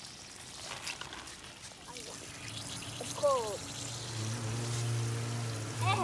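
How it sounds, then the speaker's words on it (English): Water pours and trickles steadily into water balloons in a backyard, with splashing and dribbling under intermittent voices, nearby and moderately loud. "So now the balloons are filling up."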